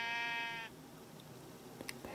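Minecraft sheep bleating once in a short, loud, nasal electronic bleat, followed by quiet game ambience with a couple of faint clicks.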